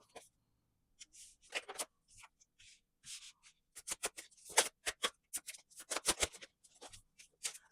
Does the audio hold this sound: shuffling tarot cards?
yes